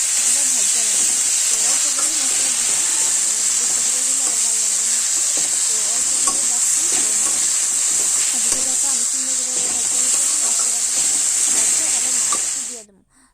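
A steady, loud hiss of onions and spices frying in a wok for a kuche eel fish curry continues throughout, with a voice talking over the sizzle before it cuts off at the end.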